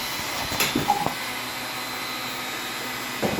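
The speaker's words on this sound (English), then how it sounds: "fire up my heat gun, let that get warming up" A heat gun warming up while finish is applied to a fishing rod gives a steady, close blowing whoosh that holds an even level throughout, with a few faint clicks early on.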